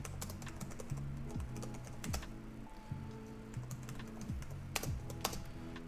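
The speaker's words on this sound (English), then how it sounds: "I'll type in here market recap." Typing on a computer keyboard at a desk, a quick, steady patter of close key clicks with occasional louder strikes, heard alone without talk.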